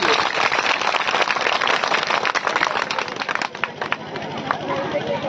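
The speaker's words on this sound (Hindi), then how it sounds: "आप लोग एक बार अपने लिए जोरदार से तालियां बजा लीजिए।" An audience claps vigorously at a talk on women's rights and Fatima Sheikh, producing a sustained, close round of applause, with voices audible through it.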